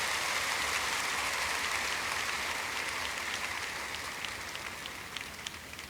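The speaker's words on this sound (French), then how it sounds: "Acclamez fort le Seigneur." A church congregation applauds loudly at a service, a dense continuous wash of clapping that eases slightly toward the end, with no voices standing out.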